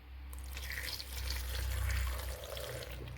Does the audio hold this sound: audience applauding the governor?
no